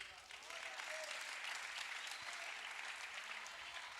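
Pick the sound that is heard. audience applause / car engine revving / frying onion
audience applause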